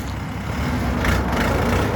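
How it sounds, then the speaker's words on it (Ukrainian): A Xingtai 454 tractor's 45-horsepower diesel engine runs at a steady idle close by, a dense continuous rumble with no voices. "Тестуємо Сінтай 454 з примусовою гідравлікою на 28 колесах."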